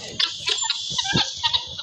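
Turkeys gobble in a run of short, bubbling bursts, fairly close and loud, with no talking.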